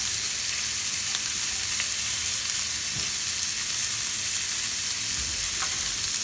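Beef shish kebabs fry in a hot pan with a steady, dense sizzling hiss and a few faint clicks of the pieces shifting, close and continuous with no talking.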